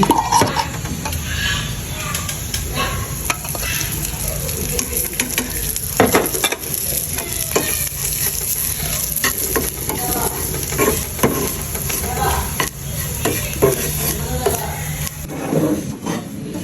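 Minced meat is stir-fried with chopped onion, green chilli, garam masala and ghee, giving a loud, constant sizzle close by with frequent scraping and clattering stirs throughout.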